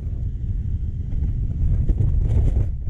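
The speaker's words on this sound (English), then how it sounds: "the wind on your tent, it's not as relaxing as rain on your tent." Wind gusting against a tent at night, a low continuous rumbling buffet with fluctuating strength and occasional flaps, close and fairly loud, no voices.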